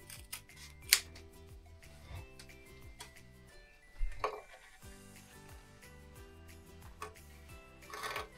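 Scissors snip an item out of a bag in a run of quick, close, crisp cuts with short clicking blade sounds and a few louder snaps, with no talking.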